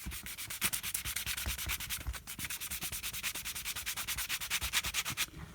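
Rapid, regular scraping strokes of sandpaper rubbing against a rubber inner tube, a rhythmic rasping that continues evenly throughout, close up.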